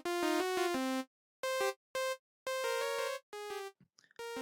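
Drum and bass synth lead from the Hive plugin, bright buzzy harmonic notes played in short staccato bursts and a few held tones with gaps of silence, close and dry.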